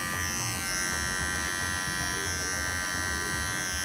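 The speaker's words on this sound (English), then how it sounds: "the clipper's still running" Wahl 5in1 electric hair clipper running close up, a steady loud mechanical buzz with a constant hum that holds evenly throughout, with no talk over it.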